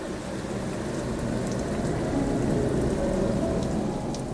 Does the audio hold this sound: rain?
yes